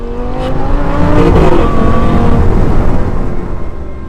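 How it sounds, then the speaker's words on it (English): A first-generation Audi R8 V10 with a Capristo valved exhaust and R-tronic gearbox accelerates hard, its loud, close engine note climbing in pitch through the revs with a mechanical shift break, and nobody talking over it. "It's a very mechanical sounding shift that sounds almost like a slur."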